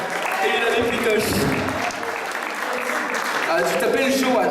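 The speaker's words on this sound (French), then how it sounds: "on peut l'applaudir" Audience at an evening magic show claps for a volunteer, a lively, fairly loud applause mixed with voices and crowd chatter throughout, dipping briefly midway before swelling again.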